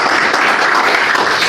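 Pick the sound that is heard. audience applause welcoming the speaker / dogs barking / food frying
audience applause welcoming the speaker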